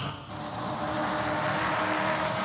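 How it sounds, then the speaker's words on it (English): V8 Ute race car engines roar down a back straight at Sandown, a loud, sustained, rising engine drone heard close and on board, with no talk. "Listen to these engines roar down the back straight."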